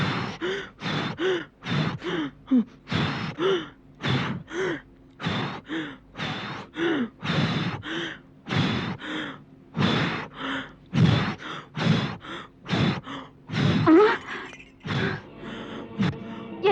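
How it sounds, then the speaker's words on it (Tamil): Heavy, frightened breathing in an animated Sri Krishna story: rapid, close gasping breaths repeat in a steady rhythm for about seventeen seconds, loud and with no other sound. "பயங்கரமாக ஏன் மூச்சு விடுகிறாய்?"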